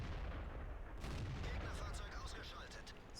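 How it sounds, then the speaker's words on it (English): Tank cannon fire in the World of Tanks video game, a Tiger II battle. Dense, rumbling booms and crackling blasts sit under steady game noise with no pauses, loud and close throughout. "So I shoot him again, take him out."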